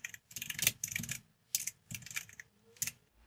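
Computer keyboard typing of a git command, quiet close key clicks in short bursts with brief pauses between, no voice.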